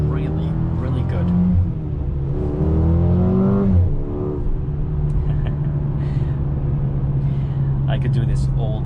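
A 2021 Mercedes-Benz GLA 35 compact SUV engine pulls steadily from inside the cabin while driving, climbing in pitch as it revs, easing off, then droning on with a low, even hum.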